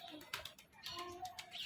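Pigeons coo softly among perched birds, with faint chirps and light rustling in a quiet setting, the calls short and intermittent.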